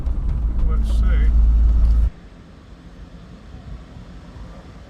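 A neglected limited-edition Peugeot 205 GTI drives along, with a loud low engine and road rumble for about two seconds before it drops to a quieter, distant background hum.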